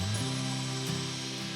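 A spade drill bores through a wooden baseboard for a deck guardrail, a steady whirring motor whine with shifting pitch and a grinding rasp, close and continuous.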